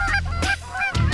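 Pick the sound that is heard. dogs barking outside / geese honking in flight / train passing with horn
geese honking in flight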